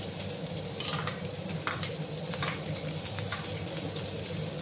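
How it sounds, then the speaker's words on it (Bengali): Sliced onions hiss and crackle in hot oil with cumin seeds, a steady close sizzle with occasional stirring scrapes. "তারপর দেখো 2টো পেঁয়াজ কেটে রেখেছিলাম, সেই পেঁয়াজগুলো দিয়ে দিলাম।"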